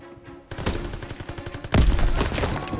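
Bursts of rapid gunfire crackle in a Call of Duty WWII match, opening after a quiet moment and growing louder with a dense volley of shots in the second half.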